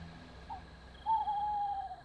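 An owl gives a single soft, drawn-out hoot in a quiet night setting, preceded by a brief faint call.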